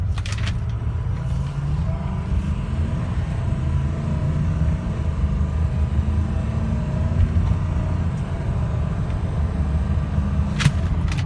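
A 2006 Ford F250 diesel pickup drives along a rough road, its low engine rumble steady and prominent from inside the cab, with a faint rise as it accelerates and occasional rattles, no one speaking.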